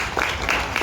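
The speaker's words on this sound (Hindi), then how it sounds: "इनके लिए पुरजोर तालियां बजाइएगा।" Brief audience applause at a Sindh Cultural Day celebration, a short burst of many hands clapping at moderate loudness from a gathered crowd.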